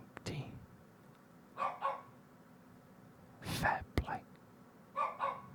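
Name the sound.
dogs barking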